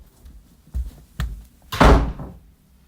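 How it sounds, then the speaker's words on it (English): A bedroom door is pushed shut after a few soft footsteps and knocks, ending in one loud close thud. "Shut my door, please."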